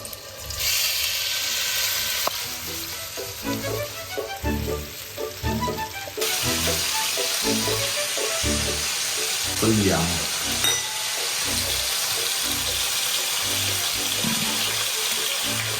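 Swordfish frying in olive oil in a pan gives a steady, loud sizzle with repeated scraping stir strokes, and a brief burst of running tap water partway through.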